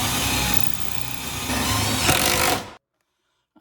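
A power drill whirs at high speed boring a screw hole during kitchen cabinet installation, a loud close buzzing burst of about two and a half seconds that stops abruptly, followed by silence.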